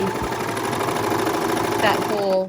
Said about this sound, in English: I'm going to go ahead and sew this off so you can see